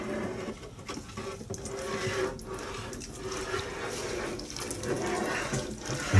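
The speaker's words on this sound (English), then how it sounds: "I'll give them a little bit of water from the top just to settle all the soil." Water sprinkled from above onto seedlings in a garden allotment, a steady close hiss and patter with faint rhythmic variation throughout.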